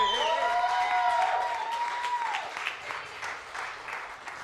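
Audience applause and cheering for a live music performer at an intimate venue, steady clapping that slowly fades while a host talks over it and feedback rings briefly at the start.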